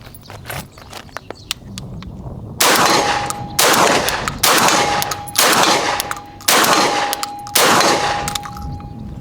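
Benelli M3 shotgun firing repeatedly while suffering a feeding malfunction, with five loud, close blasts spaced about a second apart, each followed by a sharp metallic clatter of the action.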